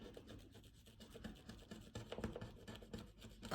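A scratch card being scratched, a soft, continuous rasping rub with small uneven strokes, quiet and close, with no talking.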